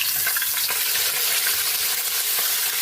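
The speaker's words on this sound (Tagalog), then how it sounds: "Magpiprito na tayo ng ating pritong isda." Fish sizzles steadily in hot oil in a pan, a dense, continuous crackling fry close up, with occasional brighter pops and no voices.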